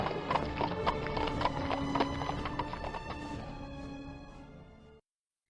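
Horse hooves clip-clop in a steady, fairly close rhythm of sharp knocks over a busy background, with a brief whinny-like tone, the whole sound fading out gently after about five seconds.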